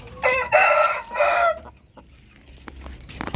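A young gamefowl stag rooster makes a loud, close, harsh call in three quick bursts, then goes quiet apart from faint low noise and a few soft clucks.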